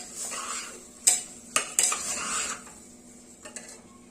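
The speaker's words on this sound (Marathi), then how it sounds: "छान असं परतून घ्यायचंय" A pan of rasam rice being sautéed and stirred, with a metal spoon clinking and scraping against the pan in a few sharp knocks over a soft sizzle, close and with no talk.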